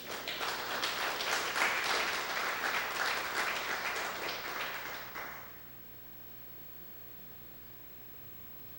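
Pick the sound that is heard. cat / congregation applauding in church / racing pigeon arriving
congregation applauding in church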